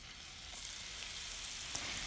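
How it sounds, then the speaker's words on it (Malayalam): Beef burger patty frying in melted butter in a small pan, a steady, even sizzle and crackle that holds throughout at moderate level, with no talking. "ഇനിയിപ്പോൾ അതിലോട്ട് നമ്മളുടെ പാറ്റി വെച്ച് കൊടുക്കാം."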